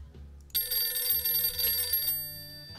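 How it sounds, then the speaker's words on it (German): A telephone rings at a house party, a bright electronic trill that starts abruptly and rings for about a second and a half before cutting off, with low room murmur underneath. "Ich muss ans Telefon gehen, guck an."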